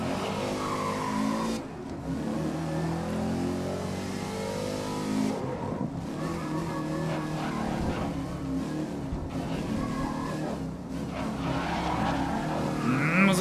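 Race car engine from GRID 2019 revs and drops as gears change, with repeated tire squeals and skids through corners, loud and close throughout with brief lifts between bursts.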